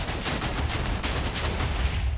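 A rapid burst of loud cracking blasts from explosions in a video game, repeating densely with no pause throughout.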